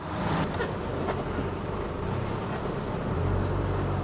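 A 2021 Nissan Xterra pulls off on a test drive near Fujairah, its steady engine and road rumble running evenly throughout at moderate level, with a brief faint click near the start and no talking.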